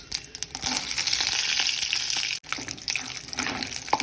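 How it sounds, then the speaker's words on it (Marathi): Peanuts crackle and sizzle steadily in hot oil with mustard seeds and cumin, a continuous loud fry with small sharp pops throughout and a brief dip near the middle. "हे बघा, शेंगदाणे छान फुटायला लागले"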